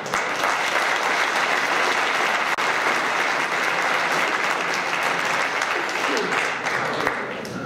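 A crowd claps steadily in sustained applause at a presentation of the Stal Stalowa Wola football team in 2014, a dense, even roar of hands through the whole stretch with a faint voice over a loudspeaker.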